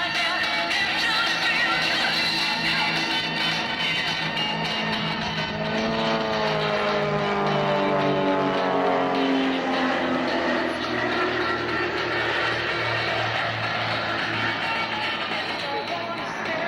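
AT&T Star aerobatic team aircraft fly a line abreast loop at a 1998 Michigan air show, their engines a broad sustained roar with a pitch that sweeps and shifts as they pass, under an announcer's voice.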